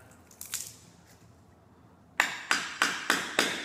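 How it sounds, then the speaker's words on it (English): Hammer striking a flat blade tool on real hardwood tongue-and-groove flooring: a couple of faint taps, a pause, then five sharp, evenly spaced metallic knocks close by. "Take your little flat blade tool that I got here and a hammer and just try to stay on the line and lift it up."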